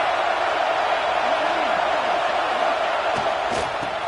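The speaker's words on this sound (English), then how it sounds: "The crowd getting behind this defense as they try to get a stop in the red zone." A stadium crowd at a Rutgers vs Nebraska college football game roars steadily behind the defense during a red-zone stand, a constant wash of cheering with a few louder bursts near the end.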